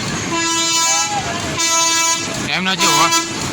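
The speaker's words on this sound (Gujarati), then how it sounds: "એમનો જે હોર્ન છે એ પણ અસલ છે" Two long, loud horn toots from a small children's ride train at a fair in Palitana, a bright steady tone, followed by a person speaking up close.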